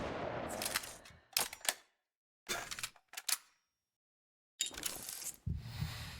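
Gunshots from a rifle aimed at a guard in the shooter video game Warpath, several sharp cracks and short bursts separated by brief gaps of near silence, fairly faint overall.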